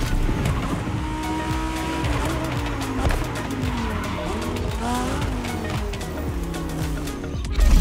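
Bugatti Veyron Barchetta racing in The Crew Motorfest on expert difficulty, a steady engine roar with rising and falling gear pitches and repeated tire squeals through corners, continuous and close, without talking.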